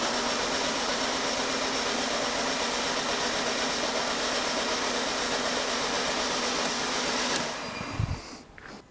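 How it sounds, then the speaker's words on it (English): Starter cranking a bad-starting Ford Transit Connect 1.5 TDCi diesel engine with low compression, a steady loud mechanical drone running for about seven seconds before cutting out, followed by brief clunks and quieter noise. "I'm now going to crank this engine, and we should start seeing a waveform appear."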